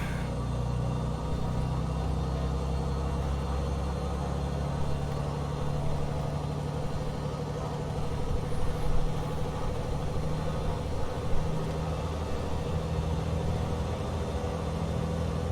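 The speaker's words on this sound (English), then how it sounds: "Barely hear the engines now." Beechcraft aircraft engines in Microsoft Flight Simulator 2020 drone steadily as a low, continuous rumble with no speech, holding an even level throughout while the plane overspeeds in flight.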